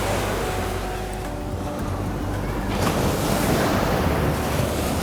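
Ocean surf washes onto a beach in a continuous roar with a fresh wave surge building partway through, close and fairly loud, mixed with wind buffeting the microphone.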